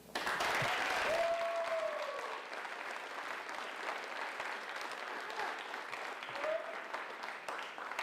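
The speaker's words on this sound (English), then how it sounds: "One more round of applause." Audience applause fills a leadership awards ceremony at UW-Platteville, loud and steady from the start, easing slightly after a couple of seconds but continuing throughout, with a few faint whistles or cheers rising over it.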